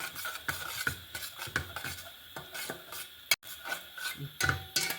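Semolina (rava) being stirred and roasted in a pan for pineapple kesari bath, a steady rhythm of dry scraping strokes with a spoon against the pan, close and fairly quiet, with one sharp knock partway through.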